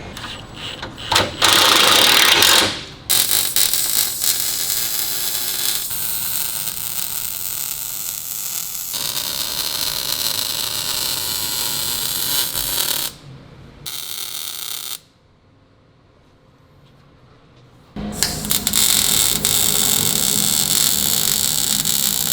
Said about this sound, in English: we'll have Zach finish up the welding on that